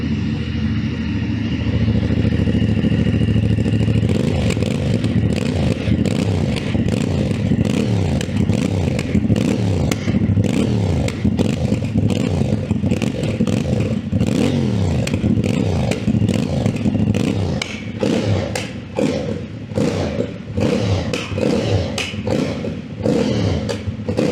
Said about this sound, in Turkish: böyle patır patır bir egzozu var.